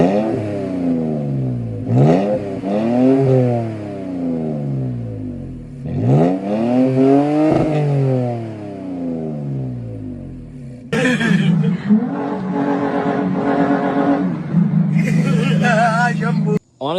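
A Toyota Tacoma 3.5 engine idles, then revs twice through an MBRP 3-inch cat-back exhaust, each rise and fall clear and loud, before a harsher, louder roar with clatter takes over near the end.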